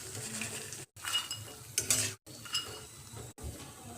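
Freshly roasted peanuts are scraped and spooned from a pan into a serving bowl, giving close, soft rattling and scraping with a light crackle, broken by a few brief silent gaps.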